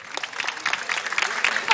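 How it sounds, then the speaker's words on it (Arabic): Studio audience on a TV talk show clapping, a dense, steady burst of applause up close that runs unbroken for a couple of seconds. "علاش الجمهور صفق على هذه القضيه؟"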